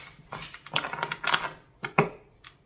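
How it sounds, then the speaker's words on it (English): A deck of tarot cards shuffled by hand, a run of quick riffling, slapping bursts with short pauses between, close and fairly loud with no talk. "Let me give it a good shuffle."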